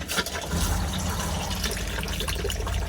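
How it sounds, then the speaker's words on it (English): Fresh water flows into the toilet basin of a 2025 Swift Ascari 384 motorhome, fed by the onboard pump, producing a steady close rushing and splashing that runs unbroken for a few seconds. "And you get a flow of water into the basin."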